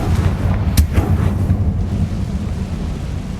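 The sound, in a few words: Confringo blasting spell from video game Hogwarts Legacy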